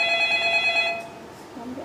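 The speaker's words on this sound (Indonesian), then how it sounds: "ini ada telepon lagi dari" An incoming-call telephone rings with an electronic tone, loud and close, then stops partway through as room noise and a voice take over.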